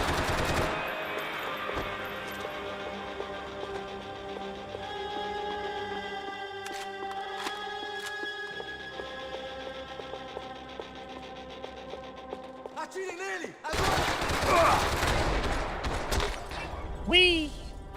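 Bursts of gunfire from the video game Max Payne 3 break out near the end, loud and rapid, after a long stretch of steady tonal music and game ambience.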